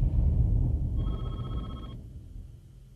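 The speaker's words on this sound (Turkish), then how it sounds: "Telefon cevap vermiyor." A telephone rings once, about a second long, unanswered, fairly faint beneath a heavy low rumbling background with no talk.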